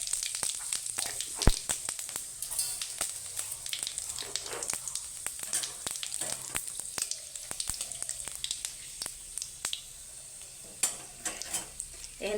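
Whole cumin seeds, cardamom, cinnamon and dried red chilli fry in hot oil for a hilsa-head and taro-leaf dish, making a steady close sizzle dotted with sharp crackling pops throughout, with no voices.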